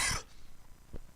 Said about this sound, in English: I have a little cough here.